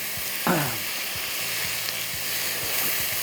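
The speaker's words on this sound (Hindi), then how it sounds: "इसको अच्छी तरह कीमे को भूनना है" Steady sizzling of minced meat frying in a hot pan with garlic, with a scrape of a spatula stirring near the start and occasional soft clicks.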